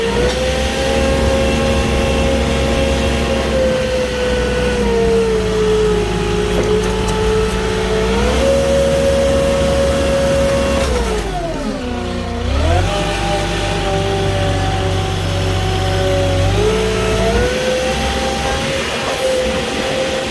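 A Moffett truck-mounted forklift delivering block to a mobile home drives around up close, its loud engine droning steadily with revs dipping and rising several times, with no talking.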